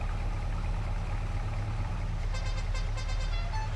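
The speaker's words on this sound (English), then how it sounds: "That's the horn on the truck." A logging truck in a video game sounds its horn, a sustained tonal honk that starts partway through, over a constant low engine rumble.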